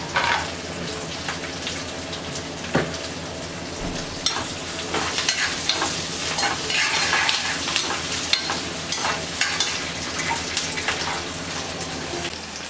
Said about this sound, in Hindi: तो बस प्याज जो है हल्का हल्का फ्राई हो चुका है